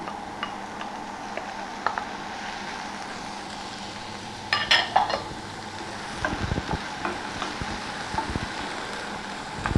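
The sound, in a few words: ham frying in a pan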